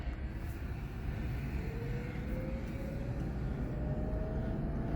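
A Ford hybrid car creeping slowly along in EV mode, giving a steady low rumble from inside with a faint rising electric whine and no gasoline engine note.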